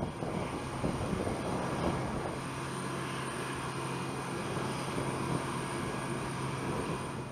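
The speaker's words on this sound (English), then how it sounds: "The F indicates this is the freighter version of the Boeing 747-8." A Boeing 747-8F freighter gives a steady, low engine roar with a constant tonal hum throughout, moderately loud and unbroken, with no voices.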